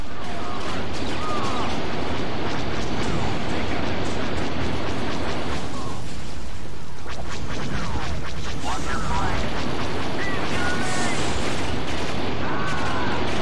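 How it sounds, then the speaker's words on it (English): Grenade blasts and gunfire in a Star Wars Battlefront 2 battle, heard as repeated booms and crackling shots through a dense, continuous combat din with someone talking over it. "And there goes their grenades."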